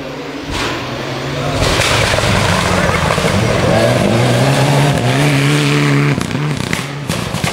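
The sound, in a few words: Mitsubishi Lancer Evo 9 rally car engine revving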